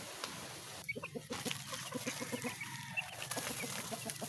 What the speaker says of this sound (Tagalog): Dalawa yung tandang.